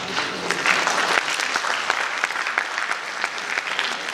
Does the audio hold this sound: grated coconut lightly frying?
no